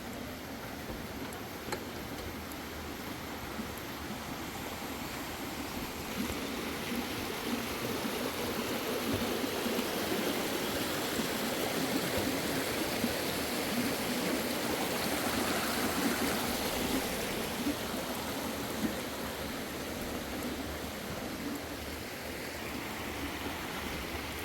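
A cave waterfall at Goa Raja in Bali, a steady dense rush of falling water that fills the space evenly throughout, broad and unbroken, with no voices over it.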